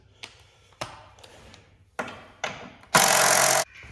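Bolts coming off engine brackets on a 2005 Lexus ES330, a few sharp metallic clicks and ratchet taps ending in a short loud burst of a power tool whirring, close up.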